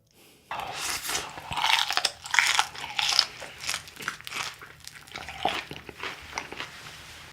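Close, crunchy chewing and biting of salmon sushi and fried shrimp tempura in a role-play mukbang, with repeated crisp bites and mouth sounds running steadily, no talking over them.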